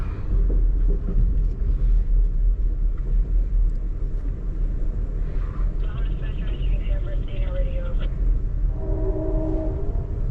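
A steady low locomotive engine rumble, heard from the second car behind the engine aboard Amtrak Train 4 to Chicago, fills the background, with a few faint tonal squeals and hums rising near the end.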